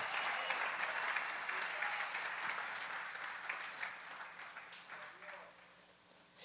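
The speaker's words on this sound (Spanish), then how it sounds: "Dale un aplauso al Señor." A church congregation claps together in steady, sustained applause at moderate distance, a dense even wash of hands that gradually softens toward the end.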